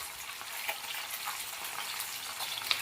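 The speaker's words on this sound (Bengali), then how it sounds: "কড়া আছে উল্টো পাল্টে বেলে মাছগুলোকে ভেজে নেবো" Bele fish fry in oil in a kadai, giving a steady, fairly quiet crackling sizzle with a few brighter pops throughout.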